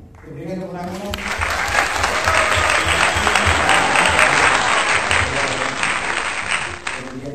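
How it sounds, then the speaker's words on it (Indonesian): An audience at a youth film screening gives a sustained round of applause that swells after a voice at the start, stays dense and loud, then tapers off as talking resumes. "Berikan tepuk tangannya."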